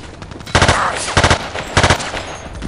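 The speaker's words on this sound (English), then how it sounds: "The machine M16 could only be a burst fire and or a, what's it called? Or a single shot, but I like burst fire better." M16 firing in burst mode in Battlefield 3, three loud close bursts of rapid shots spaced about half a second to a second apart, over a constant layer of game background noise.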